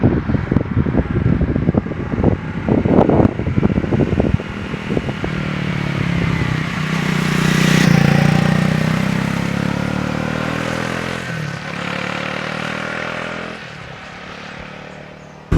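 A 2024 Triumph Speed 400 motorcycle rides along back roads, its engine a loud, steady rushing drone with wind noise, opening with choppy bursts before settling into a continuous run that slowly fades slightly.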